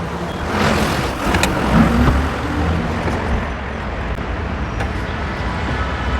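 A used Toyota Aqua car's engine runs at a steady idle, giving a continuous, even rumble with airy noise for several seconds and no talking.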